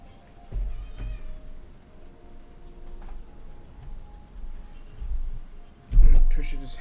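A cat meows several times at uneven intervals, mostly soft and somewhat distant, ending with one louder, closer meow; a person talks quietly now and then.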